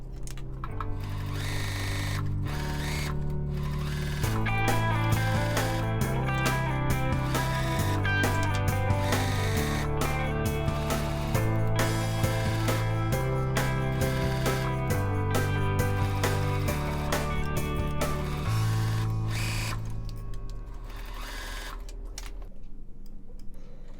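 Sewing machine stitching around the edge of a baby swaddle blanket, a fast, steady mechanical ticking and whirring with regular pulses, close and continuous, slowing near the end.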